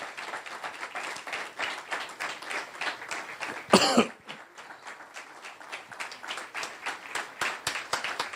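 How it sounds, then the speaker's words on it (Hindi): Church congregation clapping loudly to welcome a preacher, a rhythmic run of many hands in steady pulses, broken midway by a single sharp cough before the clapping resumes. "जोरदार तालियां।"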